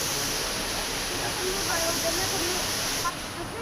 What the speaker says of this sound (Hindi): मंदिर में बहता ये प्राकृतिक सुंदर झरना इस मंदिर की शोभा को और बढ़ा देता है